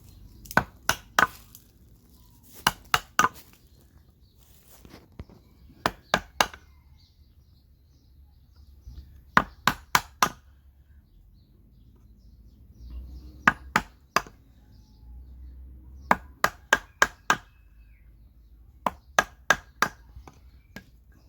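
A gouge carving out the inside of a wooden saddle stirrup, heard as crisp clustered knocks in groups of three or four, separated by quiet pauses, close and distinct.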